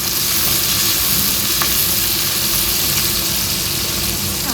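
Tomato frying in a pan for a bitter gourd and lentil curry, a loud, steady sizzle with crackling oil throughout and faint stirring scrapes, no talking.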